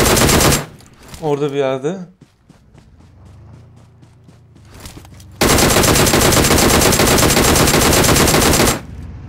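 Loud, sustained automatic gunfire from PUBG Mobile rattles nonstop for about three seconds, aimed at a vehicle driver, following earlier shorter bursts, engine hum and a brief spoken remark.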